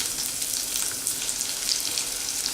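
Chopped onion frying in a pan with ginger for an okra and yogurt curry, a loud, steady close sizzle that holds without a break throughout.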